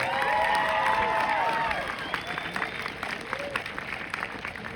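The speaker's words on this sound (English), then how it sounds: "Let's give a round of applause for everybody that's performed" Applause and cheering from a graduation audience at Lake Havasu High School, loud at first and then thinning into scattered claps and shouts while a voice carries over it.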